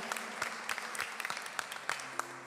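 Scattered applause at a Portuguese-language evangelical church service, uneven claps from a modest congregation over a low hum, with brief murmurs of voices.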